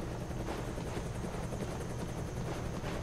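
A helicopter idles with its engine and rotors running in The Bureau: XCOM Declassified, a steady, dense chopping drone with fast regular blade pulses, continuous and moderately loud with no talking.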